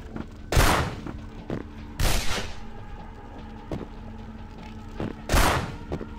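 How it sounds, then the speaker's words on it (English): Gunfire from skeleton enemies in the video game Vampire: The Masquerade Bloodlines: three sharp, loud shots spaced about two seconds apart, with softer thuds between them over a low, steady game ambience. "The skeletons are firing their guns."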